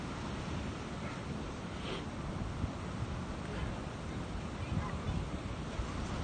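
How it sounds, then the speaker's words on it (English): Large ocean waves along the Boston shore after a storm, heard as a steady, faint roar of surf mixed with wind noise, with no clear individual crashes. "Never turn your back on the ocean waves."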